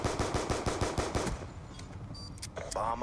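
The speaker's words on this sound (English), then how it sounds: "I'm going to run up here and pull out my pistol and watch this" A rapid burst of about ten pistol shots fired in the video game Black Ops 2, sharp evenly spaced cracks for the first second and a half, then quieter game effects and beeps.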